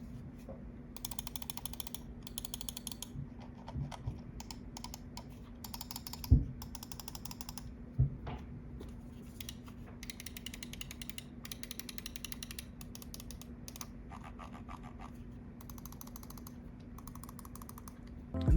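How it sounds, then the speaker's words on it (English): Mouse buttons on an Eweadn S9 Ultra and a second mouse are clicked in quick, close rapid-fire bursts, light sharp ticks in clusters with brief pauses, under a faint steady hum. "Here's a quick sound test of the clicks between the two mice."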